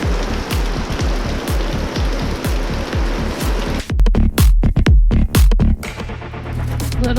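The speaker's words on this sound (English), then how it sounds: "Welcome to Florida, where it's either sunny and burning your skin or torrentially downpouring." Heavy torrential rain pours down during a Florida downpour, a dense steady hiss with close drips and splashes that grow louder and more uneven partway through. No one speaks.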